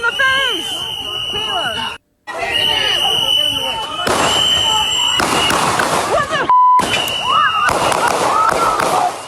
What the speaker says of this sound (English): That's a lot of fucking gunshots